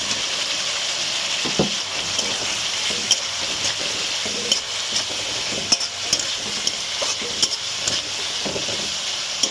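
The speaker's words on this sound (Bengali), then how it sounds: "আলুটা ভাজা আলুটা দিয়ে দিলাম" Fried potatoes are stirred into a spice masala in a pan for a cauliflower and prawn-paste curry, producing a steady hissing sizzle punctuated by repeated close spatula scrapes and taps, without talk.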